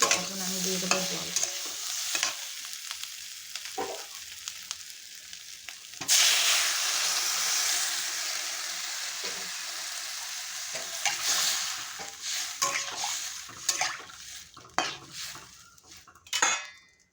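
Spiced potato and vegetable stem curry in a pan, with a burst of loud hissing and bubbling as water goes in, then stirring clatter and utensil knocks against the pot over a lower simmer.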